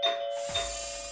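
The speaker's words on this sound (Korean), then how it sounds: "초인종 소리잖아." A doorbell rings in an animated series, a single bright chime that sustains over a soft hiss, fairly quiet.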